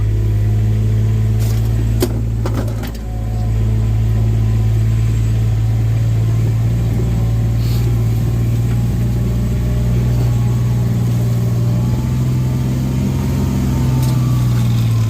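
A mini excavator's engine labours steadily at a constant drone while climbing a steep slope on a rough property road, loud and close for the whole stretch, with a brief dip near the start and faint clanks, no talking.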